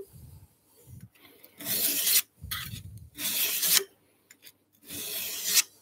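A small diamond file rasps across the blade of a garden tool held in a vise, in four bursts of rough strokes with short pauses between, close and fairly loud.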